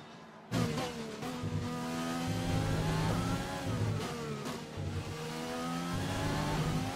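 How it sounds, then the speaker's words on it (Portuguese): Formula 1 cars in the F1 2020 racing game roar past after the finish line, high engines revving and shifting with rising and falling pitches, several cars layered together and loud throughout. "agora que todos os carros cruzaram a linha de chegada"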